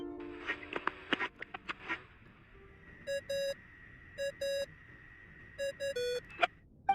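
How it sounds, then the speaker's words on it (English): Phone ringing tone in the video game Genshin Impact, a repeating pattern of short electronic beeps in quick pairs and triplets, clear and moderately loud after a few earlier clicks and taps. "I really hate that ringing tone"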